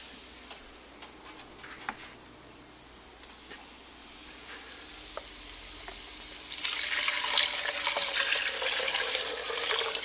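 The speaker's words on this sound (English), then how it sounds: "So let me add a little bit of chicken stock in there." Chicken stock poured into a pot of red beans, a faint tick and clatter at first, then a steady bright liquid rush that swells for the last few seconds, close by, with no voices.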